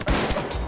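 Gunfire from a gun in the video game Battlefield V, a dense burst of sharp, loud shots packed together over a fraction of a second, with no talking.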